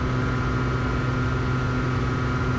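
Freshly overhauled aircraft piston engine running steadily during break-in, a loud, continuous droning roar with a constant pitch, heard close and uninterrupted.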